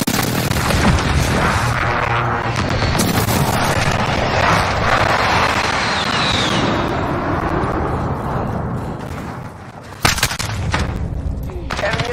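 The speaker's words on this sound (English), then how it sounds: "Precision airstrike incoming." Precision airstrike in Modern Warfare multiplayer, a continuous roar of loud explosions and gunfire layered over a dense battle din, with a sharp fresh blast near the end; a voice may speak underneath.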